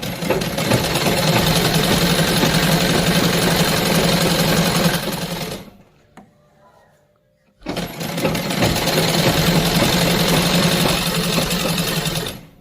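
A sewing machine stitches a salwar seam, joining the crotch area. It runs loud and close as a rapid, steady whirring chatter, stops for about two seconds, then resumes at the same pace.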